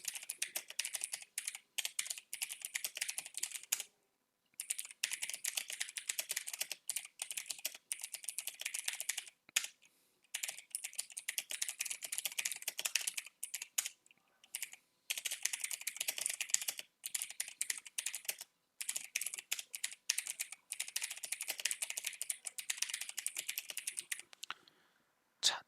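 Someone types text on a computer keyboard in the Hangul word processor, giving close, rapid bursts of key clicks with brief pauses between runs and no speech.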